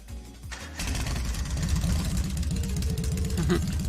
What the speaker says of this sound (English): Alright, I'm going to start the engine now.